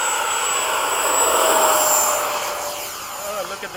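F-5 jet with a new afterburner setup taking off, a loud continuous engine roar with rising whine tones heard from inside, while voices talk over it.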